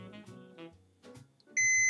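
Multimeter in continuity mode sounding a steady high-pitched tone while probing a faulty Nintendo Switch Lite circuit board; the loud continuous beep starts near the end and holds, after faint background voices and handling sounds.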